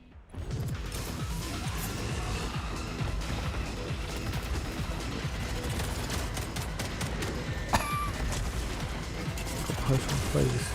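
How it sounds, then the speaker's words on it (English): Pistol fire in the video game Atomic Heart comes as sharp, rapid shots over dense, loud combat noise, with a heavier crack near the eight-second mark. "Pistol."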